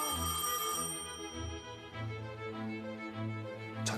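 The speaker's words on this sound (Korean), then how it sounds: "한 통의 전화가 걸려옵니다." A telephone rings as a sound effect with a repeated electronic warbling tone in short bursts, fairly faint and clear with no voices.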